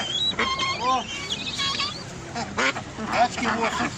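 Ducks quack repeatedly in a busy cluster at a poultry market, some calls overlapping, with people talking nearby amid a noisy market bustle.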